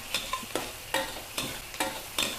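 Sliced shallots stir-fried in a pan until soft, with about six sharp scraping spatula strokes in an even rhythm over a quiet background sizzle, nearby and with no voices.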